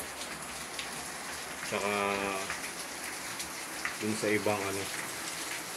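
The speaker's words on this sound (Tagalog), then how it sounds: "ito yung ating shop na naliligo sa ulan ngayon" Steady rain hisses down over a shop, drumming continuously on its roof and surfaces, while a person speaks briefly over the downpour.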